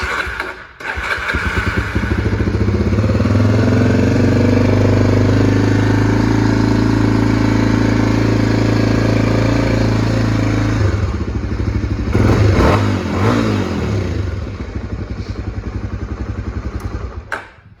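A Honda NX250 motorcycle engine with the under plate removed runs loud and close, holding a steady rumbling idle for about ten seconds before a couple of quick revs and then settling back down.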